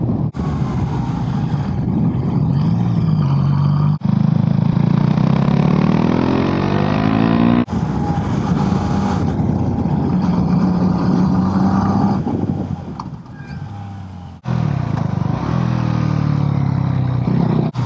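A motorcycle rides along a winding country state road, its engine loud and close throughout, the pitch rising and falling as it pulls out of curves, with brief dips between gear changes.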